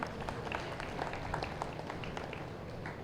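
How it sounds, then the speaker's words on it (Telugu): An audience at a rally claps loudly in a dense, continuous patter of many hands, with no distinct voices. "వచ్చేవాళ్ళందరూ గట్టిగా క్లాప్స్."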